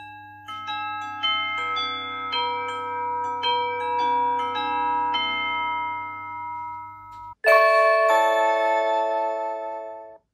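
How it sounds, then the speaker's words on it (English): A Blink wireless video doorbell chime plays a multi-note melodic ding-dong sequence, then a brighter, louder chime rings out near the end, with no talking. "That was the new Blink wireless doorbell"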